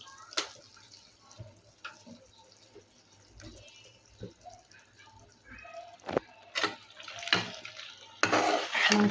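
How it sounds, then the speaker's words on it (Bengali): Chicken meat going into a pan of cooked spices for a layer chicken bhuna, heard as scattered clinks, thuds and wet splashes of utensils against the pot, growing busier and louder toward the end. "তো এখন আমি মাংসটা দিয়ে দিব।"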